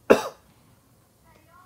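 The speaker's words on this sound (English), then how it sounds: "I'm coughing here" A single sharp cough bursts out up close, then trails off into near silence.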